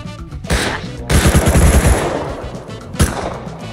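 Automatic gunfire in Rust Console Edition: a short burst, then a sustained loud rattling volley of rapid shots, and one more sharp close blast near the end, with no talking.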